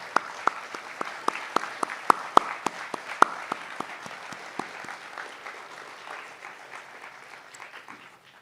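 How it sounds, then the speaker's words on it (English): Sharp, separate claps from a conference audience ring out in a room during a state chapter planning event, loud at first, then thinning into scattered, fainter clapping. "a huge round of applause for our conference planning committee"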